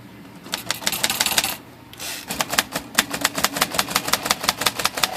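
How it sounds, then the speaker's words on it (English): A sticky, gummed-up typewriter type bar being wiggled and struck over and over, giving rapid loud metallic clacks in quick bursts, with a brief pause before the clatter resumes more steadily. "Let's try this trick again with the wiggle the type bar"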